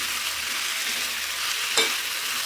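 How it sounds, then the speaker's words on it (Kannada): Capsicum frying in a pan for matar paneer, a steady close hiss of oil with one brief sharp clink partway through. "ಆ ಕ್ಯಾಪ್ಸಿಕಮ್ನ ಹಾಕ್ಕೊಂಡು ಅದನ್ನು ಫ್ರೈ ಮಾಡ್ಕೊಳ್ಳೋಣ"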